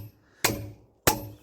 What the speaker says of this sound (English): I like to give them just not even a quarter of a turn with a hammer